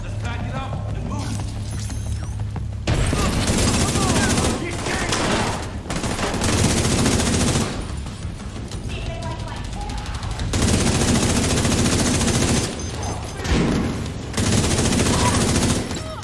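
Sustained bursts of automatic gunfire from a video game, heavy rapid volleys filling long stretches with brief lulls between them, loud and dense throughout.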